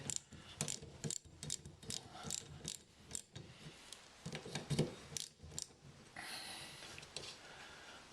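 A ratchet turning a 13mm socket on the rear wiper arm of a Range Rover L322 tailgate gives quick runs of sharp clicks close by, broken by short pauses and a brief scrape, with no speech.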